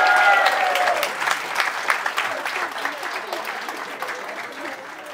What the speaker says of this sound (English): Please give Lazaro a round of applause.